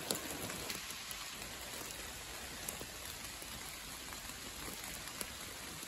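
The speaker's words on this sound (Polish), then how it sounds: "nie wiem, czy będzie przerwa w tym deszczu" Steady rain falling outdoors at a rural home site, a dense continuous hiss of drops on surfaces with occasional sharper drips, moderately close and uninterrupted throughout, with no voices.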